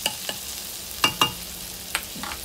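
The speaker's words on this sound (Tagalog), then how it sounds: "mag-melt na tayo ng ating butter para isosaute natin ang ating mushroom" Garlic and portobello mushrooms sauté in melted butter in a home kitchen pan: a quiet frying hiss runs underneath while a utensil stirs and scrapes in a few sharp, irregular clicks, with no voices.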